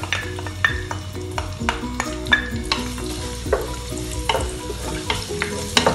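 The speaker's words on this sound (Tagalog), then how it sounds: "Igigisa na po natin. Siyempre, unahin ko po yung bawang." Garlic sizzles in a hot pan as the first step of ginataang puso ng saging, banana heart in coconut milk, with steady crackling frying broken by repeated clanks of a utensil stirring against the pan.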